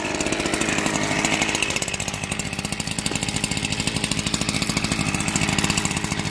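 A small chainsaw cuts logs to length in the rain, its engine snarling loud and close in a steady, slightly pulsing drone that holds for the whole stretch with no talk over it.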